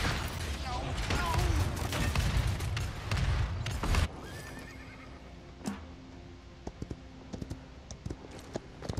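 Horse neighing in the video game Paladins, a loud whinny amid busy game sounds and clicks in the first few seconds, followed by quieter scattered game noises and keyboard taps.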